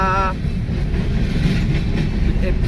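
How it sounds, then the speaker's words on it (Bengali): A train rolls past alongside on the Farakka bridge, its steady rumble and clatter close and continuous, with a brief tonal hum at the start. "ব্রিজের ওপরে এখন ব্রিজ ক্রস করছি আর পাশ দিয়ে ট্রেন পাস করছে"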